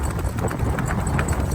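A Kathiyawadi horse walking freely without reins, its hooves striking the ground in a steady, regular clip-clop rhythm, close by and fairly loud.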